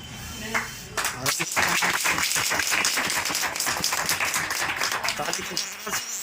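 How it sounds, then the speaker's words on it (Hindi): A crowd applauds loudly at a Republic Day celebration, with dense, rapid clapping that swells quickly and continues steadily for several seconds. "ताली का गड़गड़ सुन रहे हैं"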